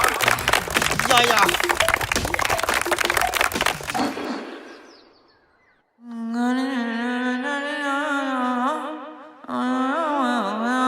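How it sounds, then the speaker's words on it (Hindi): Loud applause rises for a contestant at a school talent contest, lasting about four seconds before fading out, followed by a sustained tonal voice-like sound. "ऋतिक रसिया के लिए जोरदार तालियां"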